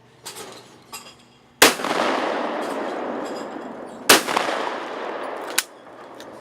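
Shotgun blasts at clay targets ring out outdoors: two loud shots, each followed by a long rolling echo, then a sharper third report, with faint handling noises before the first.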